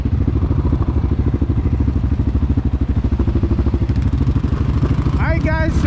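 Suzuki KingQuad 750 ATV engine running steadily and loud throughout, a continuous mid-pitched throbbing drone beside a CFMOTO CForce 600 before a drag race, with a voice breaking in near the end.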